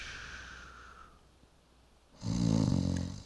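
A voice imitating a deep snore as if someone were sleeping soundly, a loud rasping snort that rises suddenly after a quieter stretch with a fading tone.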